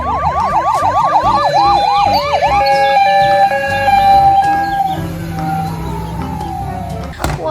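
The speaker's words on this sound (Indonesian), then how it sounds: "Nah, lihat adik-adik, ini ada mobil ambulan." A toy ambulance car blares a loud, close electronic siren, first rapid wailing sweeps, then steady alternating tones that fade near the end.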